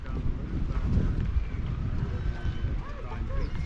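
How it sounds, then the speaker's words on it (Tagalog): Blustery wind rumbling and buffeting a microphone outdoors on a beach walk near yachts in Torrevieja, Spain, low and steady, with people talking faintly underneath. "Mahangin ah."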